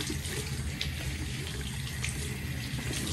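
Tap water runs steadily over the underside of an item in a sink, a close, continuous splashing rush with no pauses.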